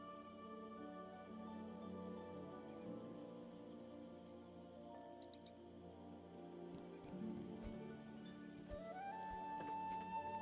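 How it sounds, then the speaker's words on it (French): Rain falls steadily in the video game The Spirit and the Mouse, a soft continuous patter over quiet game tones and music, with no voices. "il pleut"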